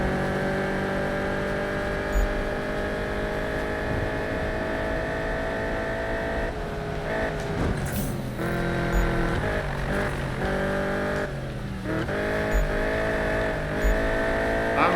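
A car driving in the video game Need for Speed 2015, its engine droning steadily and loudly throughout, with shifts in revs and a few brief bumps and whooshes along the way.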